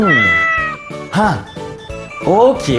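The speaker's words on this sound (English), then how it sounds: "That's the sound of my third animal, which is cat." A cat meows several times in quick succession, close and clear, with a short spoken word between the calls.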